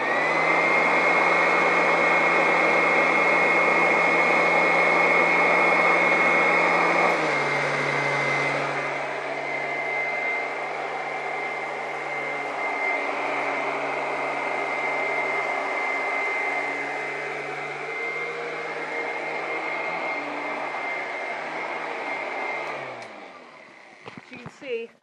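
A Royal Classic vacuum cleaner runs on carpet with a loud steady whine and roar that drops in pitch after a few seconds as its setting is adjusted, continuing evenly before cutting off at the end.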